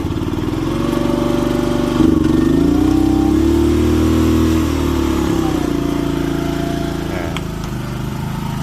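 A mid-pitched diesel engine of an old Komatsu PC01 mini excavator runs steadily and loud throughout, its pitch rising and falling as it is revved, with a brief louder surge near the start.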